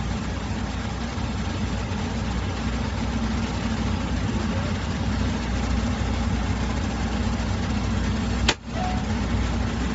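A truck engine idles with a steady low rumble for the whole stretch, broken only by one brief sharp click near the end.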